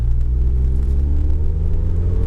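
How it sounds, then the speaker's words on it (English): A car with an automatic transmission pulls away in low gear, its engine rumbling loudly from close inside and rising steadily in pitch as it accelerates, with no one speaking. "let go of the brake, give it gas."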